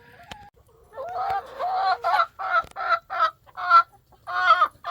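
A backyard hen with an oddly reedy, clarinet-like voice clucks close up in a rhythmic run of about eight throaty, pulsing calls, preceded by a few softer notes and light clicks.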